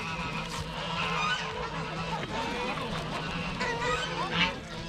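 A flock of Roman geese owned by the Pope honks repeatedly and close by, with overlapping nasal calls running throughout while someone speaks over them.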